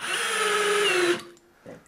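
Power drill fitted with a quarter-inch hex bit drives a screw, a loud steady whir lasting just over a second before stopping, followed by a faint clunk alone.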